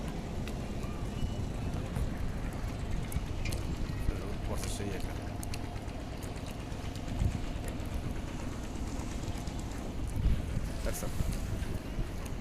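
Ships move on open water under steady wind and rumbling engine noise, a continuous low drone with faint splashes and knocks, while a voice speaks over it.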